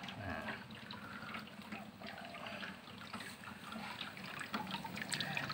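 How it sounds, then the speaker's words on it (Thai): Water bubbling inside an Arduino-controlled ultrasonic mist humidifier that sprays fog from a tube, a steady close hiss and trickle running throughout with no pauses. "น้ำนั้นนะครับเป็นฟองอากาศอยู่ข้างในแล้วก็พ่นออกมาเป็นหมอกนะครับออกมาจากท่อ"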